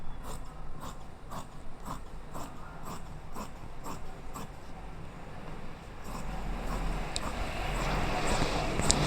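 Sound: scissors cutting petticoat fabric along marked lines

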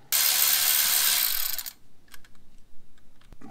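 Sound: Allen wrench removing Jeep Wrangler JL ABS sensor bolt

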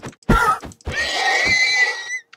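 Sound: horse neighing in Minecraft video game

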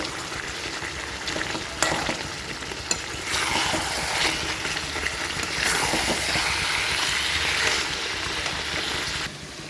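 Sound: mutton being sautéed (kosha) in oil in a pan

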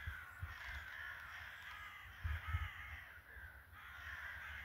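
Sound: crows cawing

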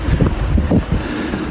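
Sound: strong wind at a cell tower during California storm

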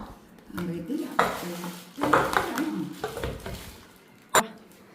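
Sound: new kitchen vessels clattering as they are handled

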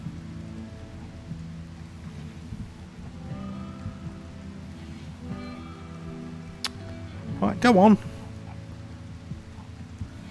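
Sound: rain in the video game Rimworld

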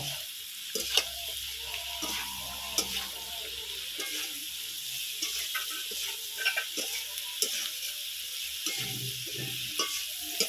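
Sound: shukto vegetables sautéing with salt and turmeric

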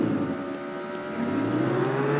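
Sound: stolen car driving off in the video game Roblox Jailbreak

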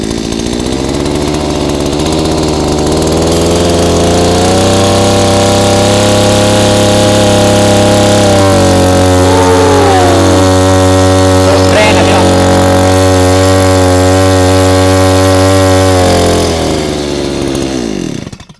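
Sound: 1-inch engine-driven agricultural water pump starting and running

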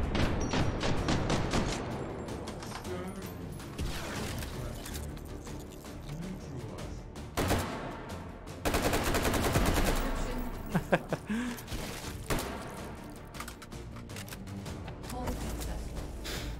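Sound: explosions and gunfire in the video game H3VR

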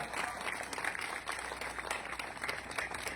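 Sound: audience applauding at community donation event

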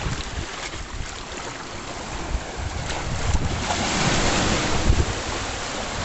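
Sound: ocean water and waves at a beach

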